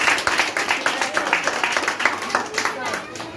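Parents and guests at a 2022 graduation ceremony clap for the principal in a short round of distinct, rhythmic handclaps from a smallish crowd, fairly close, with a slightly uneven beat.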